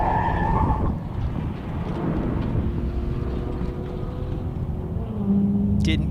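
A race car spins out in a racing video game, with tire skid and smeared engine noise running steadily throughout, pitch shifting as it slides, and a brief high squeal near the end.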